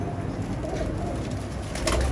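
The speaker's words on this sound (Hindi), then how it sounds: "ये उड़ा के जोड़ों में डाले हुए कबूतर" Pigeons coo in soft low repeated calls over a steady background hum, close by and alone without speech.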